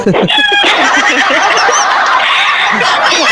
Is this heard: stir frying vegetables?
no